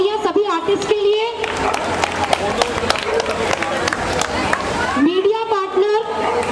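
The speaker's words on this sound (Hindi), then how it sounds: "जोरदार तालियां सभी आर्टिस्ट के लिए।" Audience applause at a Dussehra festival in a neighbourhood park in Paschim Puri, honouring the tableau artists: a dense, steady patter of clapping and crowd noise, with an announcer's amplified voice before and after.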